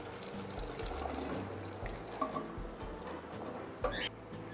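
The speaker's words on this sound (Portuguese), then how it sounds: "Eu vou colocar a água." Water poured from a container into a very large cooking pot holding tripe, ribs and beans for a Brazilian dobradinha, a steady close splashing pour with a few brief bright splashes, no talking.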